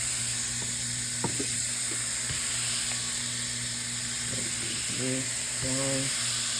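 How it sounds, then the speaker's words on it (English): Burgers sizzle steadily on a hot grill with a constant hiss, while faint clinks and brief tonal beeps sound in the background. "that perfect sizzle."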